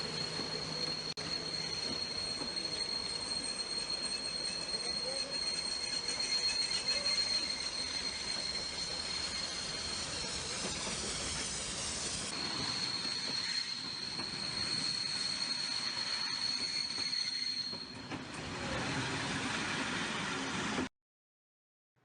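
A train runs steadily along the rails for about twenty seconds, with continuous rumble, wheel noise and a high, sustained squeal, loud and close with no voices, cutting off abruptly at the end.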